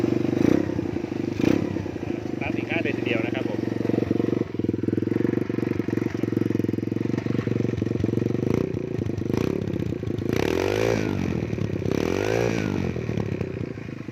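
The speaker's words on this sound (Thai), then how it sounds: "ครับสตาร์ทเครื่องง่ายมากครับผม" A 125cc dirt bike motorcycle starts and idles, its single-cylinder engine puttering loudly and steadily close by, with a couple of throttle blips revving up and falling back near the end.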